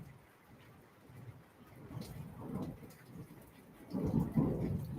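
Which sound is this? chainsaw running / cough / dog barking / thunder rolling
thunder rolling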